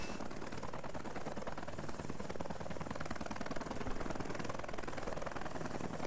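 A military helicopter's rotor and engine drone steadily and loudly throughout, a continuous whirring roar with no pauses and no voices.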